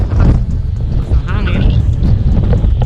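Strong wind buffets the microphone on a breezy hillside lot near Tagaytay, a loud, continuous low rumble under a person talking.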